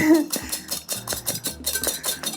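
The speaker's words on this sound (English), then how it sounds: "you're sort of whipping the air into it rather than just sort of mixing" Pavlova meringue mixture is whisked briskly in a bowl, with rapid, close metallic clinks and scrapes of the whisk against the bowl in an uneven rhythm.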